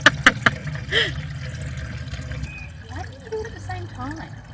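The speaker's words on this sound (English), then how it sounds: "It's the water going in the billy." Water pours and splashes into a billy pot at a camp cooking site, trickling unevenly for a few seconds. Close clinks come first, and people talk over the pouring.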